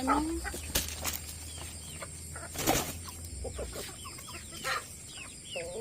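Rhode Island Red chickens in a backyard coop cluck and flap their wings, with a few sharp wing bursts among soft, scattered clucks at moderate distance.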